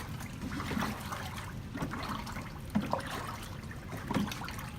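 Liquid pottery glaze sloshing and swirling as it is stirred in a bucket, a steady close wet churning with occasional soft knocks against the bucket.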